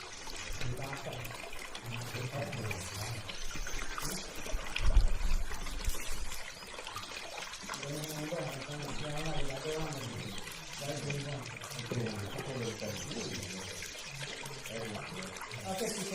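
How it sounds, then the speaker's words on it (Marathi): Water trickles and pours into a hot spring bathing pool at Tatapani near Surgana, a continuous near splashing flow heard beneath people talking. "पाण्यातल्या कुंडाचा आवाज ऐकू येतोय."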